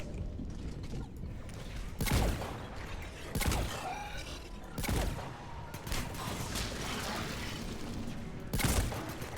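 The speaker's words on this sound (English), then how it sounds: "Have that harvester stop shooting at me, please" Heavy harvester gunfire in Mass Effect 3 booms out in spaced, powerful blasts roughly every one to two seconds, with mechanical rumbling and debris noise between shots and little speech.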